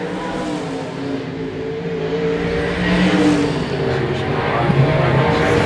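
IMCA 305 sprint car engines drone during a heat race at Park Jefferson Speedway, a loud continuous roar with shifting pitch as cars circle, and faint crowd and announcer sound blended underneath.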